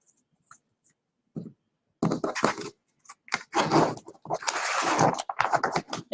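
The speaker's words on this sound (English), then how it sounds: "start shuffling" Herbal tarot cards shuffled by hand, giving scattered soft papery riffles and flicks, sparse at first and then denser, close and moderately loud with no talking.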